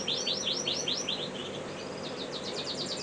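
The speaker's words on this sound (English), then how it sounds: "This is a young greenfinch cock." A young greenfinch cock in a show cage chirps in quick repeated bursts of bright twittering, close and clear over a steady low background hum.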